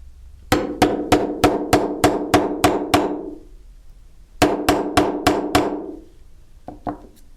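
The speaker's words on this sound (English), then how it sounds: "Now placing my setter on top of my blank, I'm using my plastic mallet again." A plastic mallet striking a rivet setter on a jewelry blank: a quick burst of about eight sharp, evenly spaced taps, a pause, then five more taps and two lighter final ones, close and clear.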